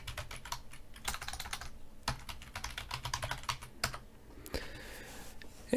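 Fingers type on a computer keyboard in a quiet room, producing quick irregular clicks and keystroke bursts with short pauses, close and fairly soft, with no talking.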